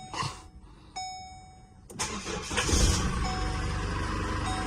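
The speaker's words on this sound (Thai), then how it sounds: "จะลองเทสสตาร์ทนะครับ สตาร์ทด้วยดอกนี้เลยนะครับ ดอกที่เราขึ้นให้ใหม่" A Chevrolet Colorado is started with a newly cut key: a chime sounds, then the engine cranks, catches and settles into a steady idle close by.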